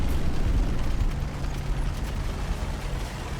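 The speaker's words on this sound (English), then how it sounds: "And mortar rounds coming out." Mortar rounds firing in the WWII Normandy wargame Combat Mission: Battle for Normandy: a dense, rumbling roll of low thuds and bursts, steady and moderately loud throughout, with no voices.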